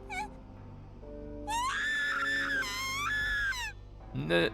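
A high, wavering scream from the horror visual novel Higurashi When They Cry, loud and sustained over about two seconds with pitch swoops, after a brief lower cry and before a short final shriek, with game music underneath.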